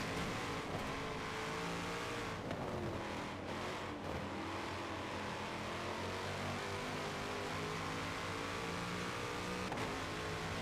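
Race cars, including two Corvettes and a BMW M3, lap Road America in a racing game, engines droning and revving continuously, with shifting pitch sweeps and no voices.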